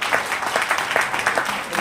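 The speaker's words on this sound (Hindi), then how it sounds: "ताली से मैं समझ गया हूं, बहुत सारे लोग हैं" A room of attendees clapping at a sales leadership training meeting, brief, dense applause with individual claps popping through, loud and steady.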